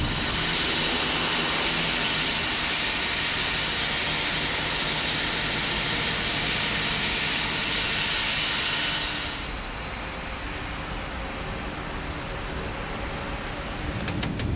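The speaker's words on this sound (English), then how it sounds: "let's fire up engine number 1" A jet airliner engine spools up during start in a flight simulator game, a loud steady roar with a high whine, then the level drops and settles into a quieter, even hum toward the end.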